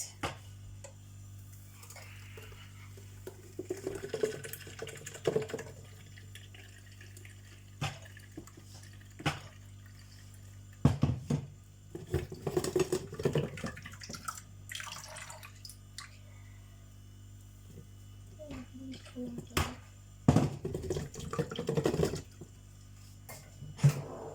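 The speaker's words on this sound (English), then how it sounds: "All we need to do is to sieve our carrot juice." Freshly juiced carrot juice is sieved in a kitchen, with intermittent pouring, dripping and splashing, light clinks of utensils against a container, and quieter stretches over a low steady hum; close and fairly soft, no talk.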